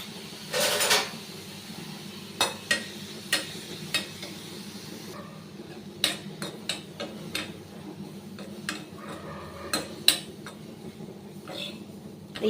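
Washed sesame seeds roast in a pan, giving a soft steady sizzle broken by frequent light ticks and scrapes of stirring, close and fairly quiet.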